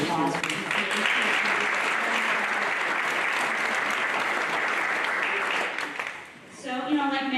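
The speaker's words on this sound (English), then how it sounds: "So let's have a round of applause for BCAC." Sustained, dense applause from a large audience at a Berkshire County poverty forum, holding steady for about six seconds before dying down as a voice begins to speak.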